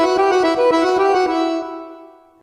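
A keyboard set to its master switch tone plays a short run of bright, harmonically rich notes in quick succession, then a held chord fades out, loud and close, with no talking.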